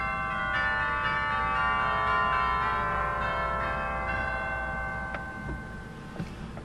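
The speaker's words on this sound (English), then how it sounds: "And the chimes are also available on the grate as well." Pipe organ chimes from a 1919 Casavant organ in a basilica, struck tubular-bell tones with long ringing overtones that overlap and sustain, a few fresh strikes near the end, loud and reverberant with no talking.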